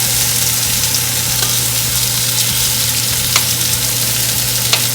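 Pork belly browning in a pot for sinigang, giving a loud, steady, close sizzle with a faint low hum beneath and occasional soft clicks.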